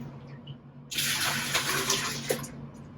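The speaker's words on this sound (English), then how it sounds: "So save your pan juices, but drain them out for now." Pork pan juices from pulled pork pour and drain in a steady, close liquid gush that starts abruptly about a second in and runs to the end, with a few small splashes.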